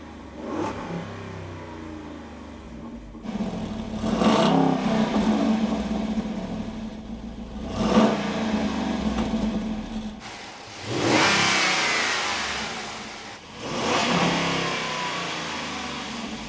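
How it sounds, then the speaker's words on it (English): A 2024 Jeep Wrangler 392 V8 engine revs up several times in strong bursts, each rising roar falling back to a deep idle, close and loud with a muted exhaust tone, performance exhaust closed. "So this is with the performance exhaust closed. Give it a couple revs."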